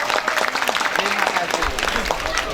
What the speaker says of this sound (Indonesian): Tepuk tangan dulu buat bu guru kita.